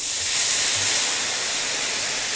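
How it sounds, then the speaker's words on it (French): Water poured into a hot pan after searing duck breast fillets sends up a loud, steady hiss of steam that holds unbroken across the moment, with no talking. "on déglace avec l'équivalent d'un verre d'eau"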